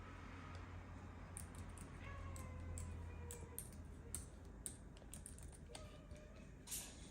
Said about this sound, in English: here you're gonna see, right, how easy it is to type something in.